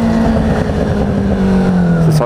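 A motorcycle fitted with a 4x2x1 full exhaust revs loudly and steadily close by, a strong engine drone with rising pitch and crackling pops during deceleration, while someone talks over it.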